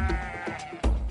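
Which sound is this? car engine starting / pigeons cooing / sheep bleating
sheep bleating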